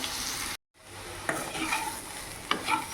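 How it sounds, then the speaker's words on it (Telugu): Alasandalu, black-eyed peas, frying on a low flame, a steady soft sizzle with spoon stirring strokes, briefly cut to silence, then resuming with occasional sharper scrapes. "ఈ విధంగా లో ఫ్లేమ్లో 5 మినిట్స్ ఫ్రై చేసుకోవాలి."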